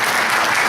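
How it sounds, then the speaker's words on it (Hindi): An audience clapping, a brief dense burst of applause heard close and fairly loud, with no talk over it. "या आपने बहुत ही जो ताली बजाई बहुत ही मौजू है"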